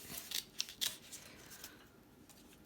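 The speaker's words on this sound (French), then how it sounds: "Et je coupe." Paper snipped with scissors for a rose-themed junk journal pouch: a few sharp, close cuts early on, then quieter handling noise with no talking.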